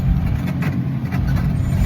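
A Maruti Eeco van's engine hums and the road rumbles steadily as it drives along in rain, with wind and tire noise throughout.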